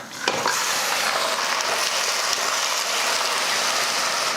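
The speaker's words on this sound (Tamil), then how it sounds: "வெங்காயம் பாருங்கள் நல்லா பொன்னிறமாக வதங்கிருச்சு இந்த டைமில் மட்டன் சேர்த்துக்கலாம்" Mutton added to golden sautéed onions in a pan for mutton kulambu, frying in a loud, close, continuous sizzle with a faint stirring scrape near the start and no talk.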